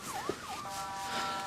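An ambulance siren wails in repeated rising and falling sweeps, steady and fairly loud throughout, with no voices over it.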